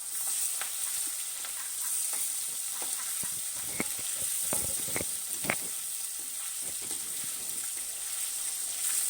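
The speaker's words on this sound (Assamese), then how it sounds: "শিঙি মাছখিনি ফ্ৰাই কৰিছোঁ, ডাঙৰ ডাঙৰ শিঙি।" Large singhi catfish fry in hot oil, a continuous close sizzle broken by sharp spits and pops, with no talk.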